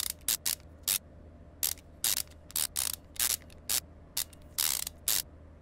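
Ratchet wrench tightening bolts in Car Mechanic Simulator 2015, a series of quick bursts of rapid clicking pawl strokes, close and crisp, repeating in an irregular rhythm over a low steady hum.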